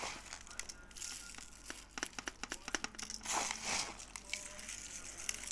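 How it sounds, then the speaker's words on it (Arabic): Plastic bags crinkle and rustle while salted homemade feseekh fish is packed, a close, continuous crumpling with sharp crackling bursts and soft handling noises. "وهنبدأ بقى نحط في اكياس ونرمي عليه الملح."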